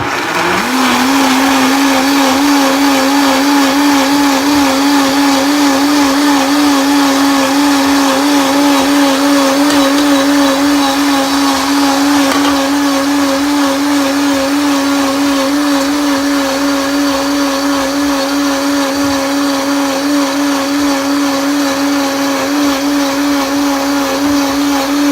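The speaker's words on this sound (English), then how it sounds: "I love having my Vitamix." A Vitamix blender whirs loudly and steadily as it purees broccoli soup, a powerful, continuous motor whine that spins up quickly and holds.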